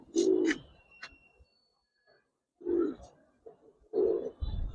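Giribaz pigeons at a farm coo in short, soft throaty bursts close by, three separate phrases broken by quiet gaps.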